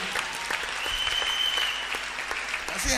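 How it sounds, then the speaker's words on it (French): A church congregation at a worship service applauds in a dense, continuous burst of clapping that fills the room, loud and sustained from start to finish. "Acclame la parole de Dieu."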